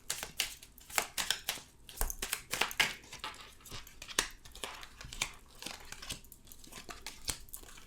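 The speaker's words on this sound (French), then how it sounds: "je vais recouvrir ces cartes" Tarot cards being covered by hand: close, dry rustling, sliding and papery taps in quick irregular bursts, with no voices.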